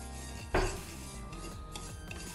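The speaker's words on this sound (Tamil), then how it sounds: "அடுத்ததா வரகு, இதையும் நம்ம பொன்னிறமாக வறுத்துக்குவோம்." Kodo millet dry-roasting in a pan, with one sharp scrape of a spoon against the metal, then a quieter ongoing rub and rustle of grains being stirred, close by.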